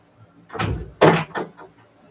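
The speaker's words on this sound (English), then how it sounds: "I got to open this door for Honey." A house door opened for a dog, heard as a couple of close bumps and rattling handling sounds, then a louder knock of the door moving, indoors at moderate volume.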